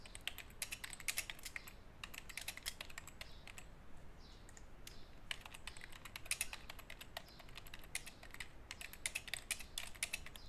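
Fingers type a product name on a computer keyboard, giving quick irregular bursts of soft clicking keystrokes with short pauses, close and fairly quiet, with no voices.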